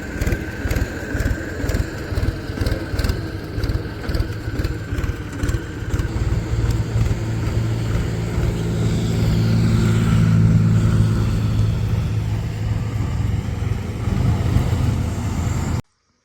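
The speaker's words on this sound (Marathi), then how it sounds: "ट्रॅक्टर आले घरी" A tractor's heavy engine rumbles steadily throughout, growing slightly louder midway as it drives home after farm work, with no talking.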